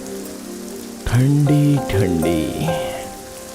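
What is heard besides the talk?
heavy rain falling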